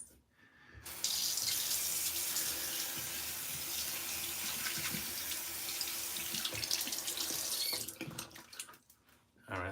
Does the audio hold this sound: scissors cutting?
no